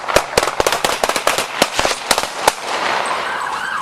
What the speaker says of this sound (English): Shots fired! Shots fired! Shots fired! Shots fired!